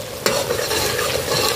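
Ground fenugreek, cumin, mustard seed and curry leaves being stirred into a pickle masala for citron (narthangai) pickle, a close, steady scraping stir with a soft sizzle throughout, preceded by a sharp clack as the spoon hits the pan.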